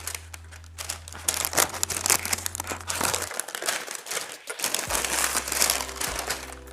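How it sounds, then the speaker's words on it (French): Paper wrapping from an unboxing of Nike Air Force 1 Mid x Stussy sneakers crinkles and rustles close up in steady bursts, with a brief quieter pause partway through. "Papier Stussy et Nike."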